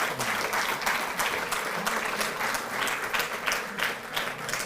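Loud, dense applause from a crowd at a Delhi event honoring athletes with the Chief Minister present, continuous and full for the whole stretch with no voice on top.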